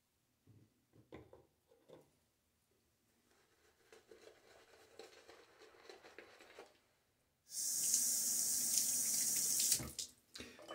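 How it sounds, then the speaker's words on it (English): Water runs loudly from a bathroom tap for a few seconds while a shaving brush is lathered, preceded by soft handling and brush sounds close by. "I'm continuing to add more water, and as you can see, the brush is still making lather"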